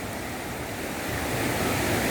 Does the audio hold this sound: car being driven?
no